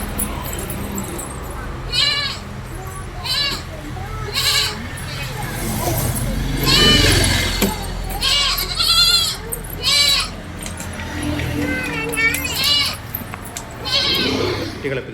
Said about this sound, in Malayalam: ക്രോസ് വന്ന ആട്